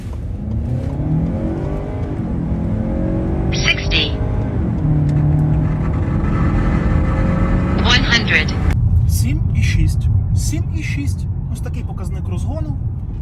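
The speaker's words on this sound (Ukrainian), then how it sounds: "Запускаємо драги і поїхали." A 2021-2023 Lincoln Nautilus midsize crossover with a 2.7-litre engine accelerates hard from a standstill in a drag test, its engine note climbing loudly through the gears with a clear shift, close and sustained throughout.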